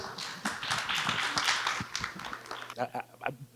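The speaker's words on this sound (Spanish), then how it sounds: "Los recibimos con un fuerte aplauso," Audience clapping at a talk on Montes de María rises into a short burst of applause, then fades into scattered individual claps, with voices speaking over it.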